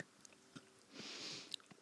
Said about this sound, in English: I'm just going to have some ASMR chewing sounds while you do that.